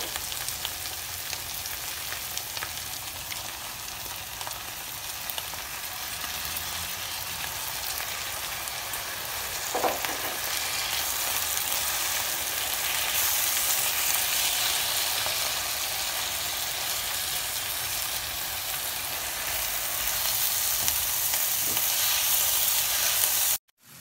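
Potato and courgette fry in a pan as part of savoury vegetable and minced-meat pancakes, with a loud, continuous sizzle throughout, a brief stir or clatter partway through and an abrupt stop at the end.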